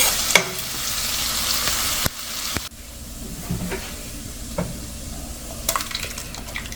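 Ginger garlic paste sautés in a pan for a restaurant-style butter chicken gravy, giving a steady, close sizzle broken by stirring scrapes and a few sharp utensil clatters against the pan.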